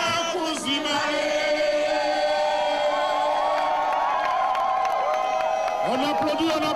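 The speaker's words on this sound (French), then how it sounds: "On applaudit, on applaudit, on applaudit" Crowd at a 68th birthday celebration for Laurent Gbagbo cheering and shouting loudly and continuously, with voices chanting and calling over a sustained roar of applause.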